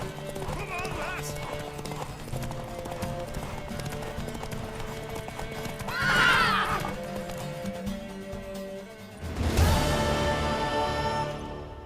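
A mare neighs and her hooves clip-clop in The Witcher 3: Wild Hunt, steady galloping hoofbeats with two loud whinnies rising above game voices and background music.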